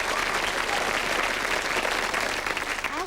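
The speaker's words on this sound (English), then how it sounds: "Well, these days, that deserves a round of applause." An audience claps steadily throughout, a dense, continuous round of applause from a crowd at a televised show, with no voices standing out.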